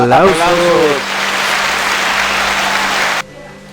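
A speaker's voice trails off at the start, then an audience bursts into dense applause that holds steady for a couple of seconds before cutting off abruptly, leaving quiet.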